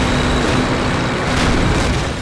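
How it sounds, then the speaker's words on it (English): Explosions in a Call of Duty game during the Dash to the Oder River mission, a loud continuous rumbling roar that fills the whole moment with no pause. "the explosions, like they've done such an excellent job with this"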